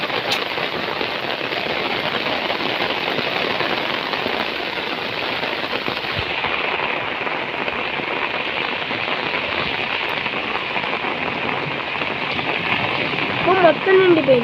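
Rain falls steadily in a dense, even hiss that continues unbroken throughout, with a few louder patters and faint chirps near the end.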